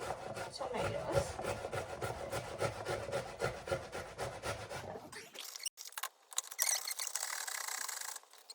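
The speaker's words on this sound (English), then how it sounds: "so then you grind your tomatoes" Tomatoes are ground by hand for Spanish eggs with a steady rhythmic rasping and scraping, close and fairly loud, before the sound changes to a harsher, brighter noise partway through.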